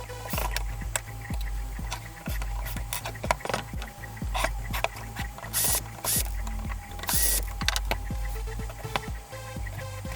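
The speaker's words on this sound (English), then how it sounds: "To remove the circuit board, you need to unscrew 4 screws." Screws being unscrewed to remove the circuit board from a BP-4A transmission block, rapid ratcheting clicks from a screwdriver with mechanical rattles and a few sharp bursts, close and continuous with no talk.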